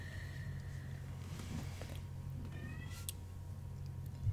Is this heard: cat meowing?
yes